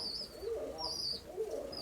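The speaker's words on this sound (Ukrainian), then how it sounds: "Остались голуби." Pigeons coo softly in a dovecote, with a couple of low coos and faint higher chirps nearby.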